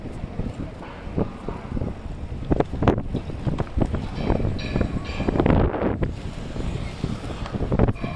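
Gusty wind buffets the microphone during a bicycle ride in Vermosa, a constant rumbling roar with irregular louder bursts and thumps, close and fairly loud with no talking.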